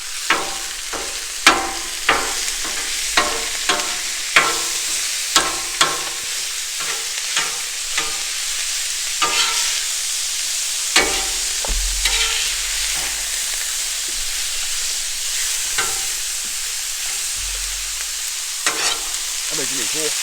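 Ground beef fries on a Blackstone griddle, a close, loud sizzle broken by a series of sharp metal spatula scrapes and taps, some coming in quick clusters.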